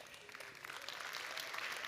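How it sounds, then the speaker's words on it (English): Audience applause for the performers Minuit 12 at the ChangeNOW 2024 opening ceremony, a steady, fairly faint wash of clapping that holds for about two seconds. "A big round of applause again for Minuit 12"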